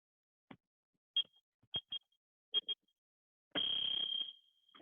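A workout timer sounds several short, sharp beeps at irregular spacing, then one long, loud tone with some noise under it, heard during an evening black belt training session.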